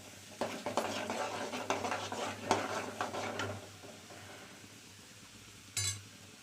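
Garlic fries in a pan with soft sizzling while a spoon stirs and scrapes for a few seconds. Things then go quieter, and a single metallic clink sounds near the end.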